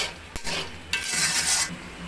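Bay leaf, cardamom, cloves and a little cinnamon sautéed in a pan, loud close sizzling with a utensil knock and vigorous stirring swells, no talking.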